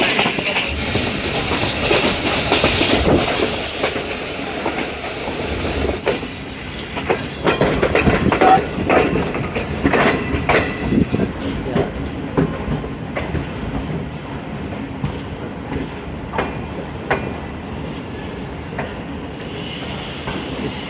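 Khyber Mail passenger train rolling through the night, steady rumble and clickety-clack of wheels on rail joints with occasional squeal, continuous and close, no talk.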